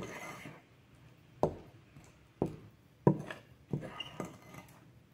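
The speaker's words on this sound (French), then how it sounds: "Une fois qu'on a mis les 5 gouttes de chaque huile essentielle, on mélange." Clay paste stirred in a bowl after adding essential oil drops, giving four or five distinct scraping, clinking strokes at a steady rhythm, close and fairly loud over a quiet room.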